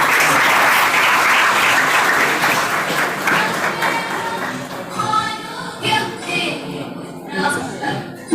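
Audience applause at the Alard University Pune induction program for first-year students, a loud dense burst of clapping that gradually thins out into scattered claps, with a few voices and light chuckles mixed in.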